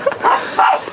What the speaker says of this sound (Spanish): hay unos perritos ahí